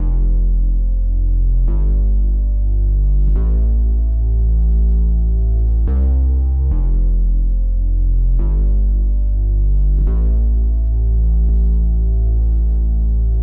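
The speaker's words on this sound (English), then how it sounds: "this sub bass that follows the root notes of the chords" A deep, heavy sub bass in an FL Studio trap beat sits under sustained chords and follows their root notes, shifting pitch about every two seconds in a loud, steady, throbbing pattern with no voices.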